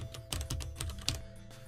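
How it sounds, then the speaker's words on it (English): Quick keystrokes on a computer keyboard entering a question, an irregular run of close, crisp clicks with a few heavier taps, no voices. "I can actually type a question here based on what I want to look at"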